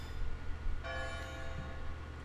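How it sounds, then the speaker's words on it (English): A bell rings in the video game Xenoblade Chronicles X: a single clear tonal strike that sets in partway through and then rings on, slowly decaying, over a low background hum. "Someone just rang a bell."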